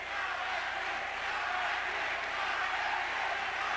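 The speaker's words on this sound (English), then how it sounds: "The big crowd here is favoring Arguello." A big arena crowd at a 1980 lightweight boxing match roars steadily in a dense, continuous wash of cheering, with no breaks across the few seconds.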